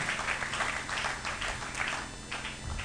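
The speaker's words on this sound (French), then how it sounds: "Applaudissez très fort pour les" A church congregation applauding loudly, a dense sustained wash of many hands clapping that swells and holds steady throughout.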